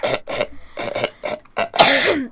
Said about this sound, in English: I'm gonna have a coughing fit in a second